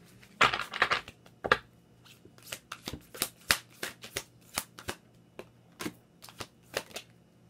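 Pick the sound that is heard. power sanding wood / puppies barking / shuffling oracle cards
shuffling oracle cards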